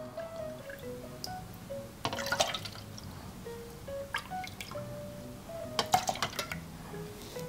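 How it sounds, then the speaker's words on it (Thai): Pennywort juice being poured into 330 ml bottles, with soft dripping and liquid trickles punctuated by a few sharp clinks of bottles and utensils, close and fairly quiet. "ก็เทใส่ขวดได้เลยนะครับ"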